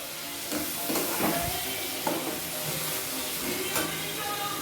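Prawns stirred in a hot frying pan for a prawn fry, with a steady sizzle and scraping strokes near the mic and faint voice in the background.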